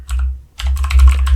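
Rapid clicking keystrokes on a computer keyboard come close and loud, a short burst, a brief pause, then a denser run of taps ending with the Enter key, with no talking.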